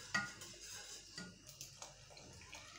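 A whisk mixes custard in a cooking pot, giving faint, irregular scraping and clinking strokes against the metal with soft liquid swishing, quiet and close.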